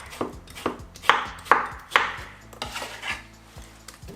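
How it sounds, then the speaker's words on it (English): A knife chops a medium-sized cucumber on a board for a weight-loss salad, with a steady series of crisp, evenly spaced thuds and no talking. "So we're cutting up the cucumber."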